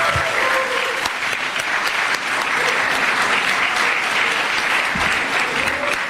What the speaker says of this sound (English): A really warm round of applause for His Excellency.